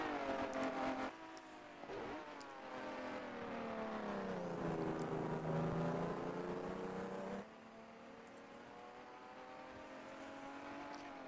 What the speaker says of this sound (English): See the difficulty of the acceleration out of these slow corners.